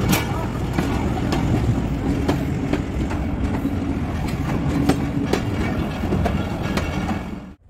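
A passenger train runs along a railway track, giving a steady, loud rumble with rhythmic clicks and clatter throughout. Faint voices sit under the noise.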